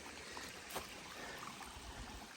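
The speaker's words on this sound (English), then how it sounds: "water source. It's flowing pretty good." Steady broadband rush of water flowing along a mountain trail water source on the Appalachian Trail, near and continuous, with rhododendrons nearby and no talk.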